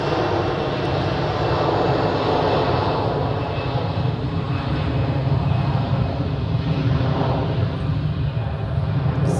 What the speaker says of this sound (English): Currently landing Eurowings A320 from Palma de Mallorca.